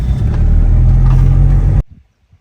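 A car on a sunflower field drives off with a loud, close engine rumble for nearly two seconds, then abruptly cuts to near silence.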